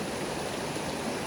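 A secluded waterfall in nature gives a steady, dense rush of falling water, constant and fairly close, with no voices over it.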